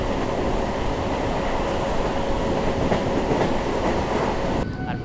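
A local train on the Bandel to Barddhaman line rumbles along with a steady, loud rolling roar and faint clickety-clack from the wheels, heard from inside, easing slightly at the very end.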